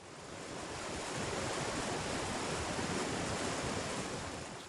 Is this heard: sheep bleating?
no